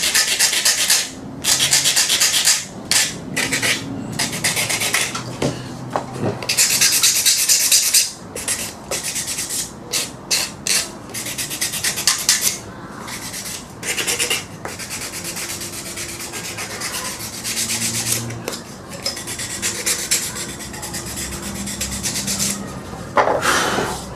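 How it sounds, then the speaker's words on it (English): Sandpaper rubbing over a wooden launching handle, a steady scratchy back-and-forth that comes in bursts of strokes with brief pauses, close and loud, with no talking. "it won't be that easy to get to sand nicely once it's on there"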